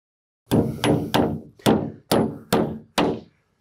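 Hammer driving a nail into the wood wall of a backyard shed under construction: seven sharp, evenly spaced ringing blows, close and loud, with no talking.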